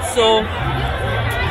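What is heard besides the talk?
big crowd at Holi festival in Mayapur ISKCON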